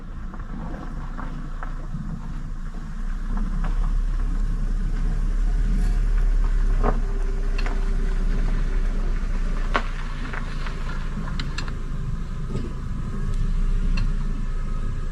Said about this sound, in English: she suddenly heard a car approaching